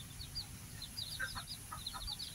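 Soft, faint clucking from a few chickens and chicks comes in short scattered bursts over a steady low background noise.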